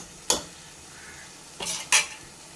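Masala sautéed without water in a pan for chicken curry, a quiet low sizzle broken by three distinct scraping stirs of a spoon, one early and two close together near the end.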